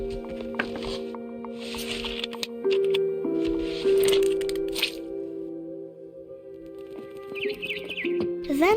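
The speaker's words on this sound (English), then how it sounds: "Then I heard chirping outside my window. It was a barn swallow going back to her nest." A barn swallow chirps in What Remains of Edith Finch: a short run of bright, quick chirps near the end, set over a steady, tonal game soundscape.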